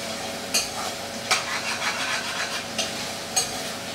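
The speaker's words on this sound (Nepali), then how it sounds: "मैले त्यो मसला फ्राई गरेको मसला अब यसमा मिसाइदिएँ" Fried spice mix being stirred into a masaura curry in a pan: a continuous sizzle broken by several sharp spoon scrapes and clinks against the pan at uneven intervals, close and fairly loud, with no talking.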